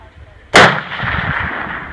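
A rifle fires a single loud, sharp shot at a shooting range, followed by a long rumbling echo that rolls on for over a second.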